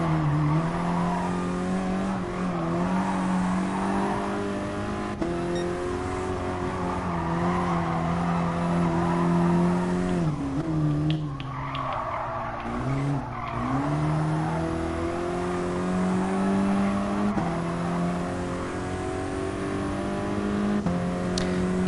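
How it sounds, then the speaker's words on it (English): Sustained engine drone and intake roar from a Volkswagen Mk7 GTI driven in the racing game GT Sport, steady and loud throughout with rising and falling revs and a brief dip near the middle. "Induction noise is kind of nice."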